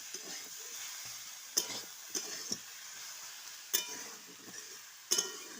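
A spice paste with salt, turmeric, chili powder and a green chili fries quietly in a pan, a soft sizzle under a few sharp metallic clinks and scrapes of a spatula.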